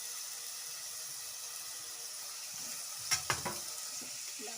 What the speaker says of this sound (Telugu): ఒక ఆలుగడ్డని కట్ చేసుకున్న వాటిని కూడా వేసేస్తున్నాను